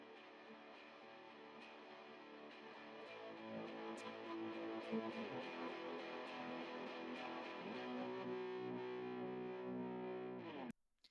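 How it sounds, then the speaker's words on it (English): A gritty, distorted electric guitar power chord rings out and sustains, swelling gradually in intensity before cutting off abruptly at the end. "this like gritty kind of power chord guitar part that is building up into the final chorus"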